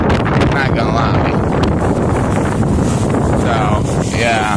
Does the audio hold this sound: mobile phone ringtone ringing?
no